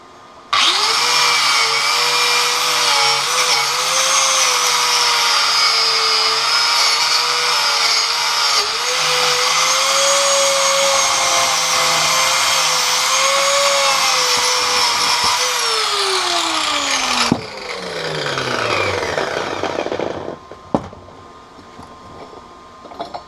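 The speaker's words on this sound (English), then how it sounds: "going to give a bit of a clean up with the grinder here" An angle grinder cleans up an arc weld made with an R-Tech Pro Arc 175 inverter welder, giving a loud, steady high whine for about seventeen seconds before spinning down and fading into quieter knocks.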